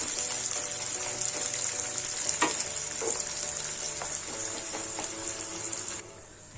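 Sliced medium onions fry in a pan with a steady, close sizzle, broken by a few sharp spatula scrapes and clicks as they are stirred, until the sizzle drops away abruptly near the end.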